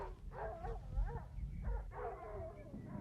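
Dogs bark and whimper in a scene from the 1977 film Close Encounters of the Third Kind, with several yips and whines repeating over a steady background, while people talk over them.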